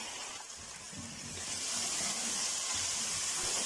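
Tomatoes hitting a hot pan with ginger and garlic for a turnip curry, a steady hissing sizzle that swells louder and stays constant.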